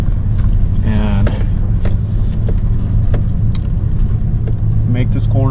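A rented mini excavator's diesel engine drones steadily and loudly up close, with a low rumbling hum throughout, a few mechanical clanks and a brief rising whine, while someone talks over it.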